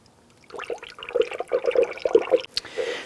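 Antifreeze poured into the coolant expansion tank of a 2004-2008 Acura TL, a gurgling, splashing liquid stream that starts after a quiet moment and runs steadily with bubbly pulses, ending in a brief hiss.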